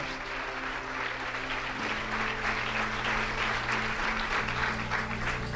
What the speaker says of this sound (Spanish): Date un aplauso para ti mismo.